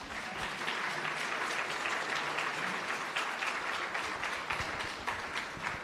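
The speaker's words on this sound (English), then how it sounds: "I'd like to get a round of applause for a panel that's come in under time." Conference audience applauds a panel at a competition law, economics and policy conference, a continuous, even crowd of clapping hands filling the hall throughout, with no voices over it.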